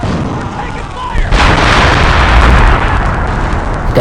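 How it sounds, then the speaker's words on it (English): A heavy explosion rumbles through a chaotic battle on a WWII beach landing in a video game. The dense, roaring blast noise swells after a brief lull and stays loud to the end, with gunfire mixed in. "The explosion. Wow."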